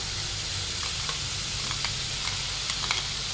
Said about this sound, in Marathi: कढई ठेवली त्याच्यात आपल्याला साजूक तूप टाकून घ्यायचं आहे आणि त्याच्यातच हे आपण खोबरं जे मिक्सरमध्ये बारीक करून घेतलं ते टाकून घेऊया